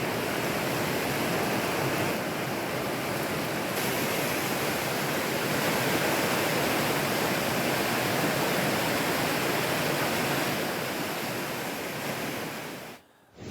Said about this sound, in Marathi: बालधुनी नदी दुथडी भरून वाहत आहे